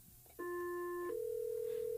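An intercom or telephone rings during a radio show as two clear electronic tones follow one another, the second held steady to the end over a quiet background.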